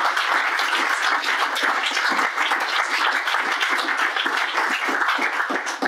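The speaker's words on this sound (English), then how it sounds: "Clap it up." Loud, sustained applause from a crowd at a political caucus mixer, a thick continuous roar of clapping hands that stays strong and even throughout.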